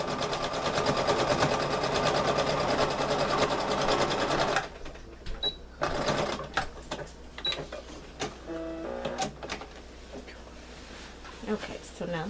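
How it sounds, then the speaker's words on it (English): A sewing machine runs fast and steadily for several seconds while stitching a reinforcing seam on an Elsa costume dress, then stops, followed by clicks, handling noises and someone talking. "I'm just going to go down here, do a little reinforced stitch."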